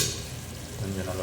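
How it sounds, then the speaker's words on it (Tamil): A pan sizzles briefly and faintly as coriander paste fries for a potato and beef biryani, a short soft crackle with light stirring. "கொஞ்சம் நல்லா ஃப்ரை ஆகட்டும்."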